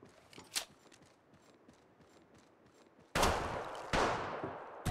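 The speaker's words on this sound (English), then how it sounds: "Getting shot at." Gunfire in the video game Apex Legends: two loud, sharp bursts in quick succession near the end, each ringing out briefly, after a stretch of faint scattered clicks.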